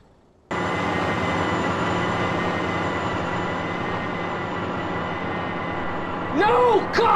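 A train in the video game BeamNG.drive rumbles loudly and steadily for several seconds, a dense continuous roar with a high whine, ending with brief rising and falling tones.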